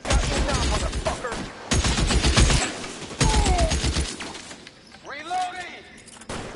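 Gunshots in the 1940s Los Angeles crime game L.A. Noire: several sharp bursts of fire and shattering impacts crack out in separate volleys, mixed with shouting voices.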